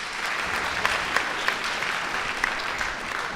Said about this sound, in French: On peut applaudir notre deuxième intervenant.